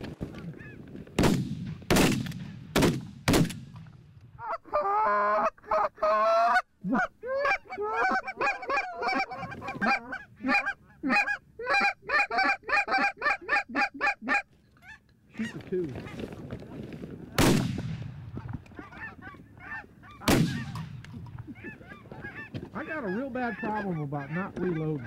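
Geese honking during a goose hunt in Manitoba, a loud flock chorus in rapid overlapping bursts, with several sharp, close shotgun blasts before and after; voices speak briefly between shots.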